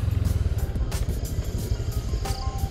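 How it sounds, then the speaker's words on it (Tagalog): A Honda Click scooter engine idles close by, giving a steady, quiet, evenly pulsing low putter with no revving. "pakinggan nyo, napakatahimik ng makina pagka naka-idle"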